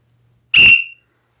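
A safety whistle on a PPE vest gives one short, loud, shrill blast of about half a second, then quickly fades to silence.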